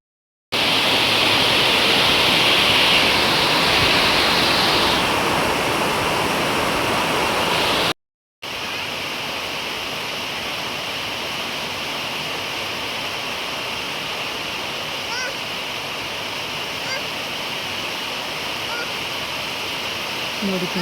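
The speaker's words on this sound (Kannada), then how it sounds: "ತುಂಬ ಅಂದರೆ ತುಂಬ ಜೋರಾಗಿ ಮಳೆ ಬರ್ತಿದೆ." Heavy rain pours down steadily over lush green surroundings with water running nearby, making a dense, loud, unbroken hiss that drops away for a moment and then resumes slightly softer.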